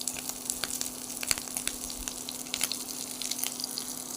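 Potato pieces, each potato cut into four to eight chunks, frying in oil with a steady close crackling sizzle and occasional sharper pops, with no voices.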